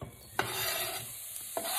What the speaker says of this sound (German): Wir schmeißen jetzt unsere Stiele und den Knoblauch da rein